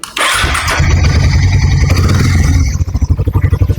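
A Harley-Davidson X440 motorcycle engine cranks and fires up loudly, roaring briefly before settling into a steady, throbbing idle with rhythmic pulses, close by.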